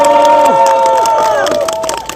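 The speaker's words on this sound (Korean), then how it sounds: "큰 박수 부탁드리겠습니다." Crowd at an outdoor political press conference in Mapo, Seoul, clapping and cheering with shouts and whistles, fairly loud and close, with some voices calling out over the noise.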